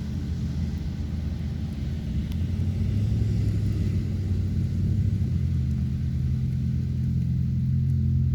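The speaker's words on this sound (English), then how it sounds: "I'll wait till a car goes by." A car drives past on a road outdoors, a steady low rumble that swells slightly midway and stays fairly constant, with no talking.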